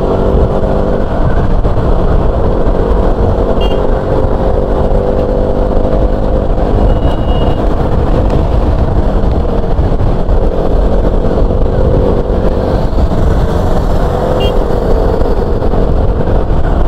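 A motorbike weaves through busy road traffic, its engine droning loudly and continuously close by with steady wind and road noise and faint surrounding vehicle sounds.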